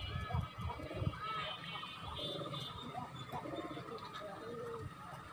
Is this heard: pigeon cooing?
yes